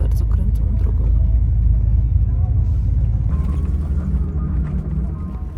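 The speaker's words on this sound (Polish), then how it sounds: "Jedziemy nocnym autobusem do Cabanaconde." Night bus to Cabanaconde, Peru, driving a very winding road, with a heavy low engine rumble and road roar that stays steady and loud, shifting in tone partway through.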